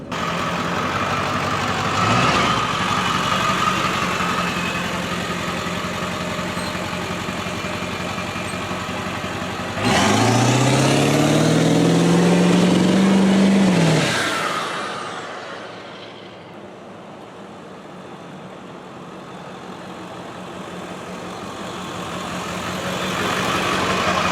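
A 7.3 turbo diesel truck drives along a road, its engine droning steadily with a rising pitch sweep as it accelerates and passes, then fading and settling before building again; no talk.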